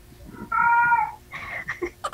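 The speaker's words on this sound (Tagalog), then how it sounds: "May pusa." A cat gives one clear, drawn-out meow close by, followed by a few softer chirping vocal sounds.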